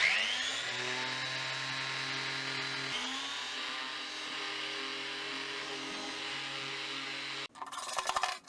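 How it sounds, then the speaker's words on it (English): A power sander runs steadily with a constant whine on cedar wood, sanding out a finish drip, then cuts off near the end followed by a brief rougher burst of noise; no speech. "So I'm just going to sand that out."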